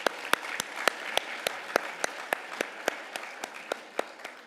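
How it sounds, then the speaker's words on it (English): An audience at a hall of fame ceremony applauds, with steady, fairly distant clapping from a crowd that holds an even level and then slowly fades toward the end. "Give them another round of applause."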